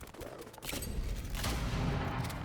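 Magelock cannon firing during a siege battle in the Age of Wonders 4 video game, with booming blasts and rumbling impacts that swell and come in rapid bursts.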